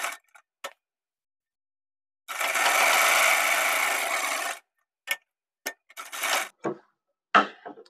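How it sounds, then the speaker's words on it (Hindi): A sewing machine stitches a pocket on palazzo pants, running in one steady two-second burst of rapid mechanical whirring, then followed by several short isolated clicks and brief stitch bursts in otherwise quiet surroundings. "यहां पर हम एक पैर का मार्जिन लेकर इसमें सिलाई लगाएंगे।"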